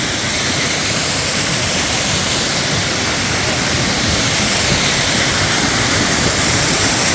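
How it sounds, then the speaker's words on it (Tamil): Shenbagadevi waterfall near Tenkasi, Courtallam, pours in a loud, steady, broadband roar that stays constant throughout, heard up close with no other sounds standing out. "அருவி என்ன அழகா இருக்கு பாருங்க"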